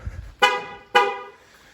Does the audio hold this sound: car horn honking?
yes